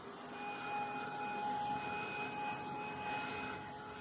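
A heat tool blows hot air over wet watercolor paint to dry it, giving a steady whirring hum with a high whine, moderately near and continuous with no talking.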